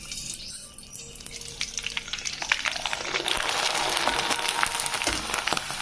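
Rice appalam made from ration rice dropped into hot oil on a stove: a quiet start, then a loud, dense crackling sizzle that swells and holds close by.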